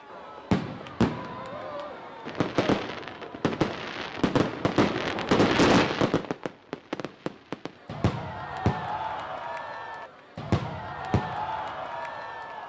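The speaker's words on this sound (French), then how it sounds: "Un spectacle de feux d'artifice qui n'a pas manqué d'émerveiller le public" New Year's fireworks crackle and pop in irregular bursts, with sharp bangs and a dense volley in the middle, a murmuring crowd faintly behind.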